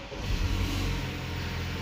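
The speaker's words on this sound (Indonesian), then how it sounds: "tekan start stop engine button di sebelah kiri sini untuk menyalakan mesinnya" A BMW 520i F10 engine fires up with a quick throaty surge that settles into a smooth, moderate idle, heard close and alone.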